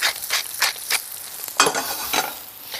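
Mushrooms cook in plenty of fat with thyme, giving a close, steady sizzle with bursts of crackle and occasional stirring scrapes, fairly loud and with no voice over it.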